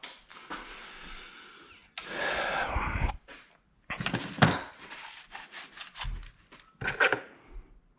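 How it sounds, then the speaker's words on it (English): Irregular bursts of a hand file rasping and scraping off high spots on 2003 Suzuki Intruder metal fork parts, broken by short pauses and a few clinks. "Knock the rest of them high parts off with a file."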